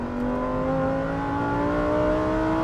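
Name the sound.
Lamborghini Huracan STO naturally aspirated engine revving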